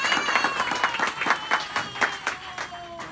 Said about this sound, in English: Annabelle needs a round of applause for that